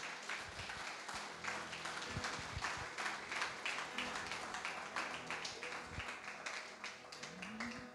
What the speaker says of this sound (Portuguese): Aplaude e glorifica ao Senhor.